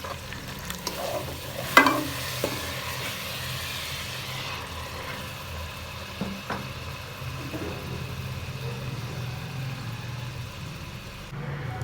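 Frying ojri (tripe) stirred after coriander goes in: a continuous sizzle with scattered spoon scrapes and one sharper clank early on.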